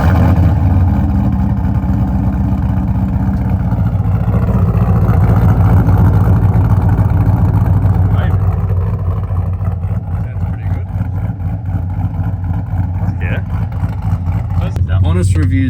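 Holden VZ SS V8 with a new exhaust idling and revving, a deep, loud, continuous rumble that swells and eases, with people talking over it.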